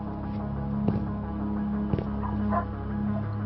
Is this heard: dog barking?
yes